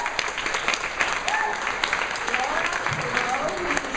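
Audience at an annual congress in Los Angeles applauding through a round of introductions, an even crackle of many hands that carries on throughout, under a speaking voice.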